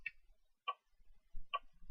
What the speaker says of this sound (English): We'll have a metronome going. It sounds like this.